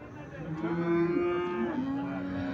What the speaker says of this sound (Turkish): Bakın şu süt inekleri de güzel.